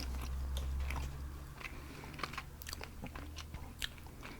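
Gum is chewed close to the mic, with wet, sticky bites and smacks coming in an uneven run over a soft low rumble, with no talk.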